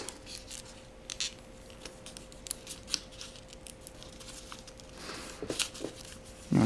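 Paper being folded into a crane, with soft crisp creases, rustles and scattered crinkles against a faint steady hum, quiet and close, ending in a louder crumple.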